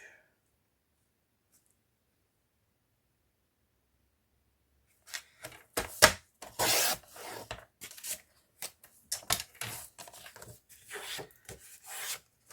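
A slightly dull craft blade slices paper for a bullet journal: after a long silence, a run of short, close, dry scraping strokes in an uneven rhythm.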